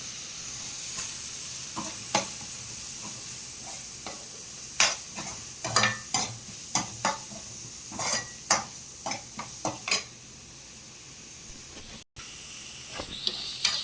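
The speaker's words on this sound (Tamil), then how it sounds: "நம்ம சாப் பண்ணி வச்சுருக்க வெங்காயம் பச்சை மிளகாவை எடுத்து இதில் போட்டு நல்லா வதக்கிக்கணும்." Onion and green chillies sautéing in a pan, a continuous oily sizzle and hiss broken by a string of sharp spatula scrapes and stirring clacks at an uneven pace, close and clear with no talking.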